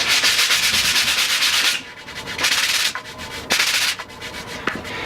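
Wooden boards for model railroad benchwork being sanded with coarse sandpaper: loud, close, rasping strokes in several bursts with short pauses, rough and hissy, with no talking.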